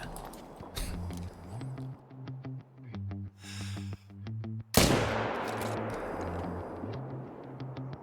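A hunting rifle fires at a moose in theHunter: Call of the Wild, one loud sharp report that rings and decays, followed by a sustained wash of noise, with steady rhythmic ambient clicks and tones before and after the shot.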